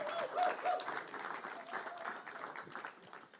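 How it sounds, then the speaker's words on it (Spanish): A large round of applause from an audience honoring the mothers, steady clapping that swells early then gradually thins, heard at moderate distance with some faint murmuring beneath. "un aplauso grande."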